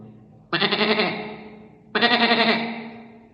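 A man imitates a goat bleating with two long wavering "meh" calls, loud and close, each about a second long with a pause between.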